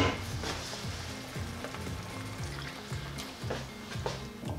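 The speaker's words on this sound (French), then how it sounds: "Remuez jusqu'à ce que votre sauce épaississe" Mushroom cream sauce with paprika, thickening in a pan, gives a soft bubbling sizzle under rhythmic stirring strokes that repeat at a steady pace, close and fairly quiet, no voices.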